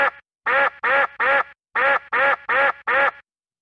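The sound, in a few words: duck quacking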